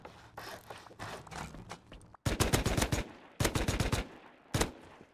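Loud bursts of automatic gunfire in the survival game Rust during a house raid on a frozen map, coming in rapid strings and separate volleys with short gaps between them, close and sharp against quieter background movement.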